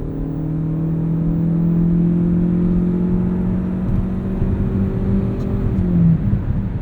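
A 2020 Ford Escape Hybrid SE Sport AWD accelerates hard from inside the cabin, its steady engine drone rising smoothly in pitch for several seconds and then easing off near the end.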